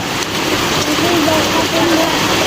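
Steady rain drums on tin roof sheets of a house during a downpour, a dense, continuous patter filling the whole moment, with faint voices murmuring beneath it.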